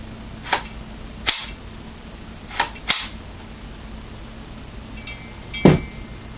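Metal parts of a CYMA CM.035A AK-style airsoft rifle snapping and clacking: several sharp, close clicks scattered across a quiet room, with one louder final snap near the end.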